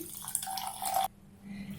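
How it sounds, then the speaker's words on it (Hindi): Water is poured into a bowl of washed poha (flattened rice) in a home kitchen, a steady splashing stream for about a second that stops abruptly, leaving quiet handling noise. "जब पोहा धुल जाएगी उसके बाद इसमें पानी डाल देंगे।"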